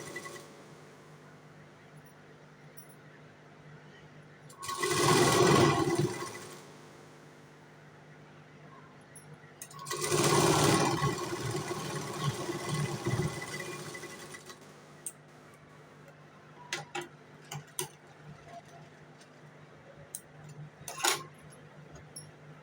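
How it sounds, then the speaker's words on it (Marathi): A sewing machine runs stitches along a folded fabric strip on a katori blouse, in two steady bursts of several seconds each, followed by faint clicks and handling noises. "आपल्याला पट्टी फोल्ड करून शिलाई मारायची"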